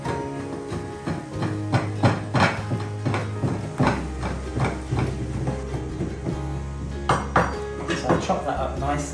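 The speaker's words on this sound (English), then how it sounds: "chop these mint leaves as finely as I can" Mint leaves chopped finely with a knife on a board, a fast run of close knocking blade strikes in uneven bursts, mixed with clinks of kitchenware, while a person talks.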